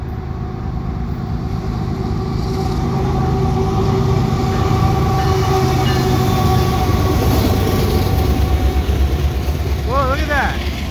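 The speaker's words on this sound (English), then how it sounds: "I got a fast moving CPKC train heading westbound." A fast-moving CPKC double-stack freight train heads westbound past Valois in Montreal, its steady loud rumble and rattling wheels rolling on continuously and close by, with a horn-like tone rising near the end.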